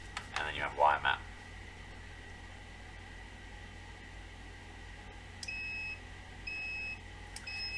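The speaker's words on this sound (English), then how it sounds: "does actually make a beeping sound" An NF-388 LAN cable tester checking a Cat6 cable gives short, thin electronic beeps, faint, with a few spaced repeats. A brief voice is heard at the start over quiet room noise.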